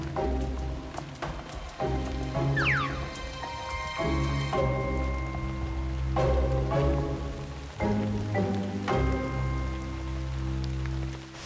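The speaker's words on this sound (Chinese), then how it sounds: "你看吧，下雨了吧？" Rain falls outdoors on a stream trek in the mountains, a steady soft patter mixed with scattered clatters and brief higher chirps, with no talking.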